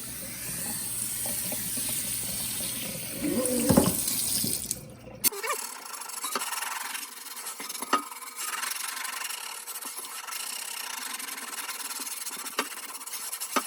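Tap water runs and splashes close by while a cast iron pan is scrubbed and rinsed, then the flow continues more softly with occasional clinks.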